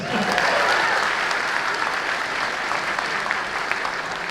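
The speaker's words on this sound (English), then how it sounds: "that deserves a round of applause" Audience applause at a Smash Con 2022 anime convention panel, a loud, dense wash of clapping that swells at the start and holds steadily throughout, with a few whoops rising above it.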